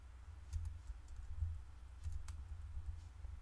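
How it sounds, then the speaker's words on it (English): Light typing on a computer keyboard, a sparse run of soft quiet key clicks in irregular rhythm, heard close up with no talking. "So type in CC sphere"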